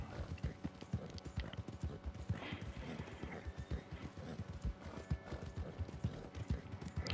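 Rhythmic clip-clop of a horse's hooves galloping steadily in the video game Red Dead Redemption 2, close and continuous with faint mechanical rattles in the background.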